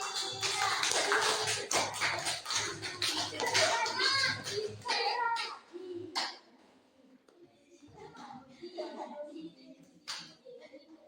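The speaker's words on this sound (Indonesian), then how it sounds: "tepuk tangan untuk Randy" Children clap for a classmate in a classroom, a burst of quick, uneven claps for about five seconds that then dies away, followed by scattered taps, shuffling and quiet kids' voices.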